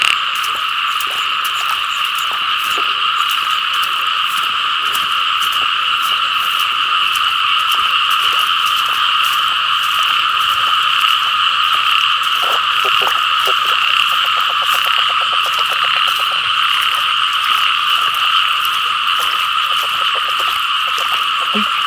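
Dense chorus of frogs croaking at night in the Thai countryside, a loud continuous mass of overlapping trills and calls filling the whole stretch, with occasional rustling and faint distant voices underneath.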